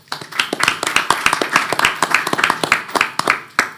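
A small audience at a listening forum claps to welcome guests. The hand claps are sparse and individually distinct, arriving in an uneven rhythm close to the microphone.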